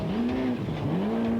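Rally car driving hard around a very short track at the Australian Rally Championship, engine note rising and falling with gear changes and a faint tire squeal, close and loud.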